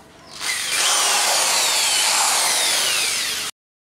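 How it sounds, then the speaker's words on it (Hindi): Power drill boring mounting holes for a 3 kW solar hybrid inverter, a loud steady high whine that starts abruptly, holds for about three seconds and cuts off sharply, with no talking. "निशान लगाने के बाद हमने इसके अंदर ड्रिलिंग करनी है।"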